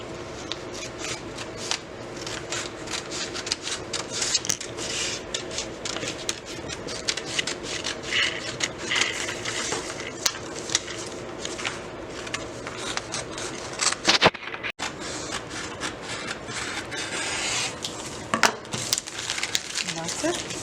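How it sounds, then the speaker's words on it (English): Paper block poster pieces cut out with scissors at close range, a steady run of crisp snips and rustling paper sheets continuing for about twenty seconds with a few brief pauses. "Cut it out."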